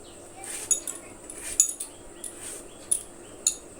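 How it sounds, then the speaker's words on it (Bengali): A knife chops an ash gourd into cubes on a board, giving a handful of light, crisp taps spaced irregularly over a faint, quiet room background. "আমি এখন কুমড়োটা এভাবে ডুমো ডুমো করে কেটে নিব।"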